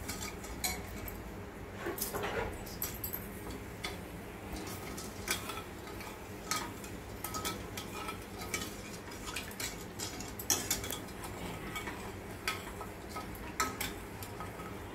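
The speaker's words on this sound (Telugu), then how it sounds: "ఇలా తిప్పుతూ ఉండండి, లేకపోతే చక్కెర అంతా అడుగంటుతుంది" A spoon scrapes and taps around a pan while melting sugar syrup is stirred for kaja, sounding as irregular faint metallic clinks and ticks over a quiet background, without speech.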